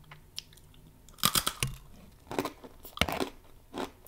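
Someone bites into dry, uncooked ramen noodles and chews them, giving loud, close crunches in bursts with quieter chewing between.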